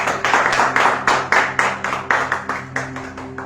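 A church congregation applauds in worship, with loud, rhythmic clapping in steady waves close by and a sustained musical tone beneath.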